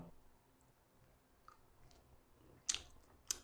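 Someone chews a pricier, springy-textured sea shrimp up close, with quiet soft chewing and a couple of sharper wet bites near the end.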